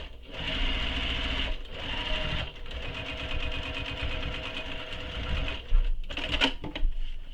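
A sewing machine stitches a handbag seam with a continuous whirring, rapid needle chatter running in long steady bursts with brief pauses, close and fairly loud.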